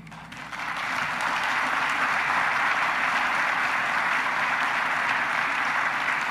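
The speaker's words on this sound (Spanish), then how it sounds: "Cuando inicia el aplauso" A crowd at the National Palace in the Dominican Republic breaks into sustained applause during a presidential address, rising quickly after a brief moment and holding as a dense, steady wash of clapping.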